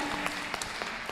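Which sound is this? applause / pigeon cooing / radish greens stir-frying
applause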